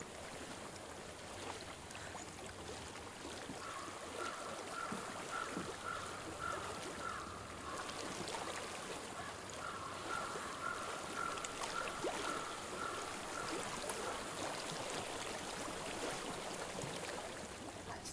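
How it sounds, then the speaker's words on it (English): Water flows continuously in the video game Hellblade, a soft, steady rushing of a stream with a faint repeating tonal chime drifting through the middle, no speech. "I hear water. Go to it."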